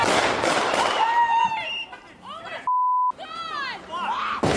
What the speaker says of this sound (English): You heard 3 shots fired, a crash